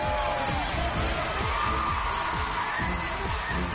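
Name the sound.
audience applause and cheering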